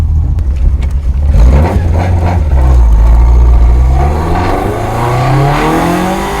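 A Toyota KP60 Starlet with a 4AGE engine on open throttles idles roughly and revs up loudly in a driveway, its deep, close engine note rising and falling through several blips with no talk.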